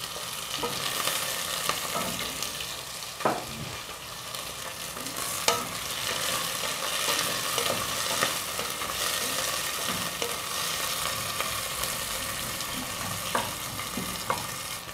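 Chili and chicken gizzards fry in a pan for a Mexican stew, a dense continuous sizzle broken by scraping stirs and a few sharper clinks, close and loud with nobody talking.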